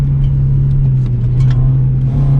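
Loud, close, steady engine drone from inside a car driving down the Yabitsu Touge mountain road in Japan, with a constant low hum and no speech.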